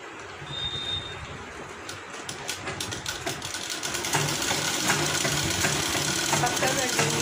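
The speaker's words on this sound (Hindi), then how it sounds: "उसके बाद हमको इसमें पूरे में सिलाई चलाना है।" A sewing machine runs a steady stitching line through fabric while making a skirt from leftover cloth, its fast mechanical chatter continuous and close, growing slightly louder toward the end, with a voice speaking over it.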